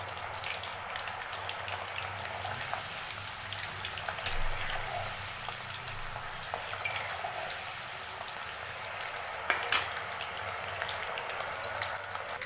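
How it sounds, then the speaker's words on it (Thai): Chickpeas deep frying in hot oil over medium heat, a steady soft crackling sizzle with occasional louder pops, continuous and fairly quiet with no talking. "ระหว่างที่รอถั่วทอดนะคะ"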